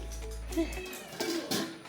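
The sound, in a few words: cat meowing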